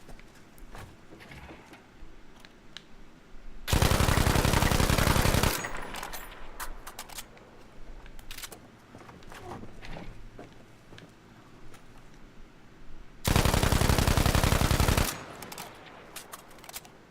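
K7 machine gun in Battlefield V firing on a shooting range, two loud continuous bursts of rapid automatic fire about two seconds each, with quieter game ambience between.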